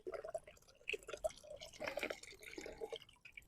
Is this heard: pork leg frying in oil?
no